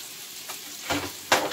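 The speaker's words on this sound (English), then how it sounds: "we're going to let them sizzle for a second" Cod pieces sizzle and fry in a pan, soft crackling bursts that swell in short waves, quiet and with no talking.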